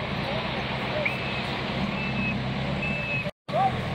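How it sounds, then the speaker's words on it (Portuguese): A stuck truck sounds a repeated reversing beep over a constant loud engine rumble in Garopaba, Santa Catarina, with the noise cutting out briefly near the end. "O caminhão deu uma atolada."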